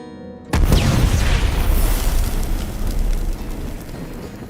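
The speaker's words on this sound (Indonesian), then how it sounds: "menggunakan granat fosfor untuk mengakhiri dirinya sendiri" A phosphorus grenade detonates in a sci-fi film scene, a sudden loud boom after a moment of quiet, followed by a sustained roaring, crackling rumble that slowly fades.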